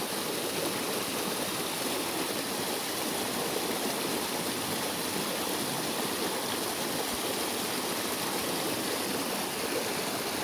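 Creek water flowing steadily near a small town, a constant close broadband rushing with no breaks.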